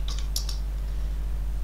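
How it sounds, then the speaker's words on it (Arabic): Quick burst of computer keyboard typing, several close crisp keystrokes over a steady low hum, with no one speaking. "هنبتدي نكتب مثلا جمله معينه"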